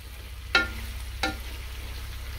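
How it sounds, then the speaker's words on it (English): Diced carrots and other vegetables frying with spices in a pan for a home-style vegetable pulao, a low steady sizzle broken by two brief stirring scrapes, with no talk. "we will fry these vegetables in the spices to take off the raw edge."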